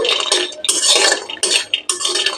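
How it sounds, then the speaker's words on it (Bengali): Half a cup of cashews frying on low heat in a hot pan for white sesame sandesh, heard as close, repeated clattering stirs and scrapes of a utensil against metal in quick bursts. "হাফ কাপ কাজু অ্যাড করে একদম লো হিটে কাজু লাইট গোল্ডেন হওয়া অবধি আর ক্রিস্প হওয়া অবধি"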